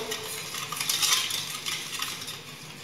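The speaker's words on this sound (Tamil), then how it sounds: "இப்போ நல்லா விஸ்க் வச்சு மிக்ஸ் பண்ணிக்கோங்க." Custard powder and sugar being whisked together in a bowl, a quick run of light scratchy, rattling strokes that swell then fade.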